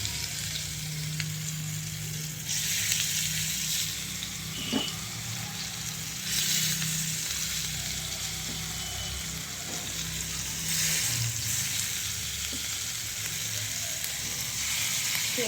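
Flattened pea fritters crackle and sizzle in hot oil in a frying pan, a continuous close bubbling hiss that swells in a few louder bursts.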